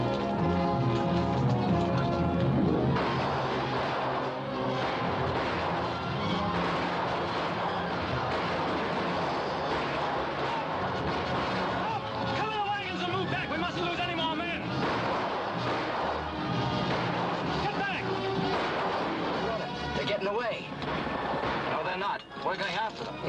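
Gunfire crackles through a 1940 western film battle scene, loud and dense under swelling orchestral music and shouting, with shots and commotion blending continuously throughout.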